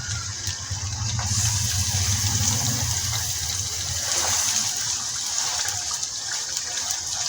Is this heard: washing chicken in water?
yes